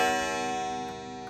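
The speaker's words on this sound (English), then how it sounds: "the gong is kind of a tingy gong" An Ansonia parlor clock gong rings out in a single thin, tinny struck tone, its metallic ring decaying slowly, alone and close.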